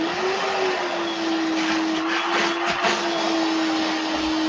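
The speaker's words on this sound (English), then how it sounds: "So having things like a quieter vacuum." A quiet vacuum cleaner runs continuously at close range, a steady whooshing airflow hiss over a constant motor hum, with a few brief rustles of suction midway and no speech.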